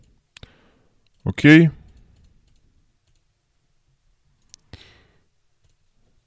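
Two sharp, isolated computer mouse clicks, one early and one a few seconds later, with a single short spoken word in between and near-silence around them.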